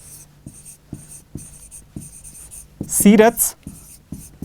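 A pen scratches out an answer by hand in quick, evenly spaced strokes, close and clear, with a voice briefly speaking over the writing near the end.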